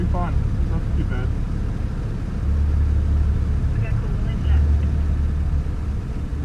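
Jeep engine held at a steady rev while climbing a trail at Maitland Mines, a low continuous drone that swells twice, with people talking over it.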